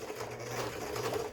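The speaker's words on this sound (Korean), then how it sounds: "이게 30년 세월이 거의 다 된 재봉틀인데도 이 수직가마죠" A nearly 30-year-old Taiwanese-made sewing machine with a vertical hook runs at a steady, even whir, heard close and alone without any talk.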